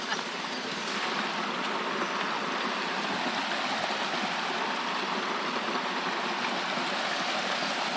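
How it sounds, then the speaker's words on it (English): A waterfall in Fiji roars as a steady, dense wash of rushing water, constant and broad throughout with no pauses. "It's a lovely waterfall though"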